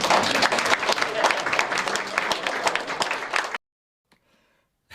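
An audience gives a live song a dense, loud burst of clapping that carries on for several seconds, then cuts off abruptly into near silence.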